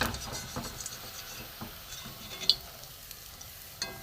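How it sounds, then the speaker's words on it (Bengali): Semolina fritters being lifted from hot frying oil with a strainer, a soft bubbling sizzle with light scraping and a few sharp metallic clicks, quiet and close with no talk. "এবার আমি ছাঁকনি দিয়ে সব তুলে নেব।"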